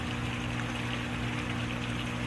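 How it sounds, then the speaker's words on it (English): An aquarium pump pushes water out of the sump of a 125-gallon freshwater tank, a steady, even rush and trickle with a faint low hum, continuous and close with no talking. "So it basically gets pumped out of the sump."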